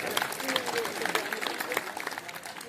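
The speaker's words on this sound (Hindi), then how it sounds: "ये बहुत ताली बजाओ भाई।" Audience applause at a Sadh Panchami mela sermon gathering at Kanhad Dham, Ramdwara Tonk, with scattered claps running under a man's speech throughout.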